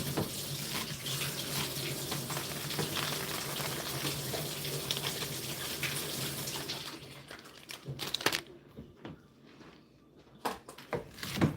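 A kitchen tap runs steadily while a pot is rinsed underneath, water gushing and splashing nearby, then the flow stops and a few clanks and drips follow in the quiet.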